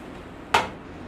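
Cooking spray hitting the bottom of a pan in a home kitchen: one short, close hissing burst of about a tenth of a second against quiet room tone.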